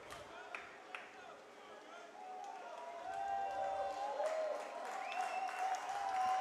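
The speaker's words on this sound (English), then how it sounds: "Fans trying to cheer on the Majors here." A ballpark crowd at a London Majors baseball game applauds and cheers, the sound swelling in the second half, while a commentator talks over it and a couple of sharp claps stand out early.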